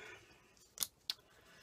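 Two quick, crisp snips of scissors cutting a small piece during paper crafting, close and quiet against a soft room hush.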